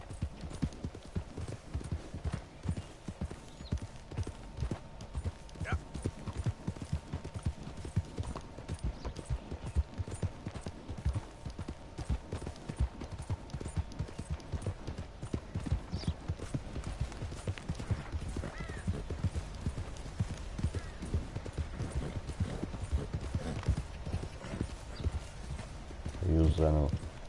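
Horse hooves clip-clop steadily in Red Dead Redemption 2, a continuous rhythmic gait carried over game ambience and a voice speaking throughout, with an occasional whinny near the end.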